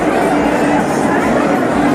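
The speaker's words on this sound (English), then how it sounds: "Check out the crowd, people." Crowd in a mall games arena at LuLu Mall in Bengaluru, a steady dense babble of many voices filling the space, loud and continuous throughout.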